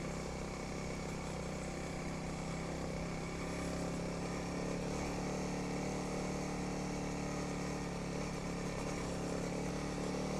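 A Honda CRF300L dual-sport motorcycle climbs Grouse Mountain, its single-cylinder engine droning loudly and continuously as it rides, with steady engine noise and rushing wind throughout and no talk.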